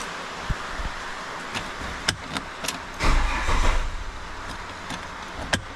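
A Holden VY Commodore being converted from automatic to manual cranks over and briefly catches before cutting out, with a muffled rumble swelling midway among clicks and rattles, moderately close and without talking.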